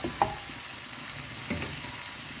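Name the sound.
sautéing curry base in a pan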